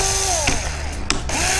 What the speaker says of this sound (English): So we start drilling through, don't press too hard